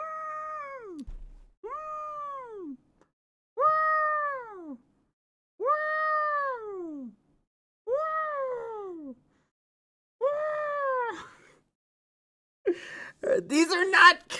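A voice imitates an elephant with a string of six falling, wavering wails that sound pitch-corrected, evenly spaced, ending in a few rougher, noisier calls.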